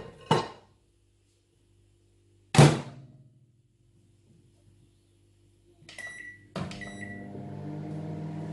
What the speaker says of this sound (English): the first thing I'm going to be doing is to melt this butter in the microwave